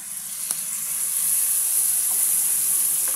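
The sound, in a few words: spices sizzling with fried potatoes for aloo dum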